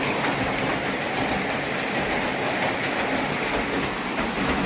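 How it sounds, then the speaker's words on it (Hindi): Steady, dense hiss of heavy rain pouring without a break, loud and even throughout with no voices. "अभी बड़ी ज़ोरदार बारिश हो रही है, अच्छी बारिश हो रही है।"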